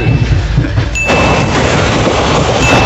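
The interior of a moving train near Sukna, Darjeeling carries a loud, steady rumble with broadband rolling noise and a brief high whine. No speech is clearly audible.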